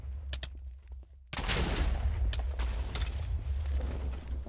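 Overwatch gunfire during a draft tournament match: a few scattered shots, then from just after one second a dense, loud burst of rapid gunfire and impacts that continues to the end.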